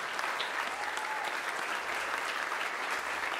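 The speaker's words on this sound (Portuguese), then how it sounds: "Uma salva de palmas para os nossos astros." Steady applause from an audience at a comedy hypnosis show fills the whole stretch, a dense even patter of many hands with no break and no voice on top.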